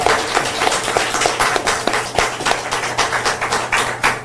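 An audience at a press conference applauds steadily, dense clapping holding at a fairly loud, even level throughout with no voices over it.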